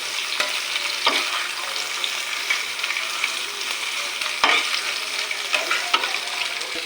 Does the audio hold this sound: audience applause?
no